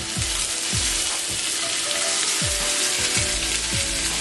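A burger patty stood on its edge in a hot pan sizzles loudly and steadily at close range, with a series of low thumping pulses repeating underneath and no voices.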